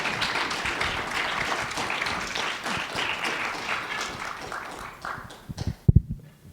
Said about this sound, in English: Could we give these fine folks a round of applause, please?